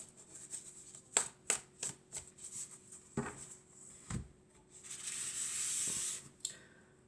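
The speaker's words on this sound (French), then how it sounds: "on va mélanger et puis on va prendre quelques cartes" Tarot cards being shuffled by hand, a series of soft crisp riffles and taps at close range, ending in a longer sustained rustling sweep.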